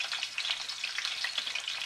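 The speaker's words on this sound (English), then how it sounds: "You can probably hear it sizzling." Fatty end of a beef roast sizzling in a pan, a steady close crackle of frying fat that holds evenly with no voices.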